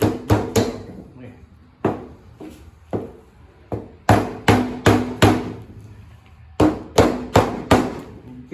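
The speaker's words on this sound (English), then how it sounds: "hammer it back in" A hammer strikes wooden comb honey frame pieces in loud, close blows, some single and some in quick bursts of three or four, with pauses between.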